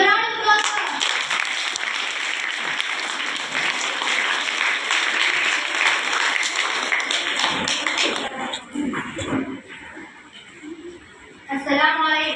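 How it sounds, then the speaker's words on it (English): A room full of people at a high school claps steadily for several seconds, the applause thinning and fading toward the end as a voice starts to speak. "Give a round of applause for her."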